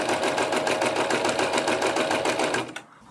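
A sewing machine fitted with a free motion foot stitches steadily and loudly in a fast, even rhythm for most of the moment, then stops abruptly near the end, leaving near silence.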